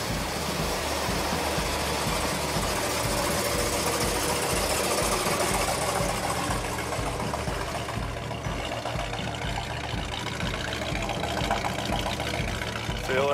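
A 1970 Plymouth Road Runner convertible engine idling, with a steady, close rhythmic low pulsing that runs throughout.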